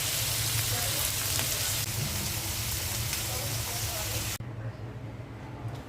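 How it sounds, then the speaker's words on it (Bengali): Beef sizzles steadily in a hot pan, a dense continuous frying hiss that drops to a quieter sizzle near the end. "গরুর মাংসটা জাল দিয়ে নিচ্ছি।"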